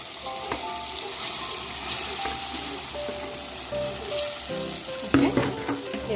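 Vegetables go into a pan of frying tomatoes, producing a steady sizzle with stirring scrapes and clinks, then a louder burst of crackling as more is added near the end.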